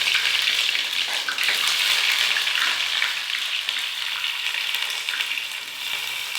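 Okra and onion fry in hot oil in a pan, giving a loud, continuous, close sizzle with a fine crackling hiss throughout and no voices over it.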